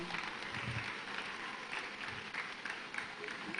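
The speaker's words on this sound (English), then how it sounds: "Let's give them a round of applause" An audience at a colloquium event claps steadily and densely for several seconds, a full hall of applause with faint crowd murmur mixed in.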